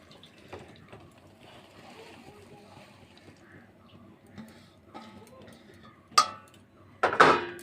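Chopped taro flowers go into a pan of water on the stove to boil, giving two quick splashes and clatters near the end after a stretch of quiet kitchen sounds under a speaking voice.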